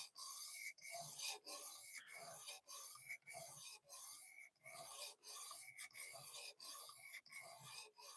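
A knife is drawn repeatedly across a sharpener in steady, even rasping strokes with brief gaps between them, close and quiet, with no talking.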